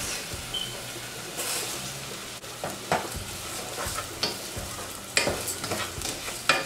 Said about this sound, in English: give it a good stir so that the rice is coated with the oil